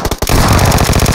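Rapid automatic gunfire in the battle royale video game PUBG, a loud, close burst of evenly spaced shots rattling continuously for about a second after a couple of opening shots, with no talk over it.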